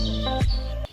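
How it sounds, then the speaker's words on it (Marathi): Brief bird chirps ring around a village farmhouse on a farm, a short burst of tweeting close by with no talk. "अव्याहतपणे या ठिकाणी पक्ष्यांची किलबिलाट आपल्याला ऐकू येते"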